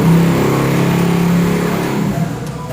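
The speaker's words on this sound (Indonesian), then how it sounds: "ada motor lagi touring di luar" Motorcycles on a tour ride past outside, a loud, continuous engine drone that rises and then slowly fades as they pass, with no talk over it.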